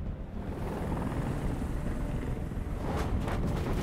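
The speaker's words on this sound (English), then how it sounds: "Helicopter, no. Go away. Helicopter, you're ruining everything." A helicopter hovers in the video game Detroit Become Human, giving a loud, steady rotor rumble with broad wind-like roar throughout and a slight surge near the end; no one speaks.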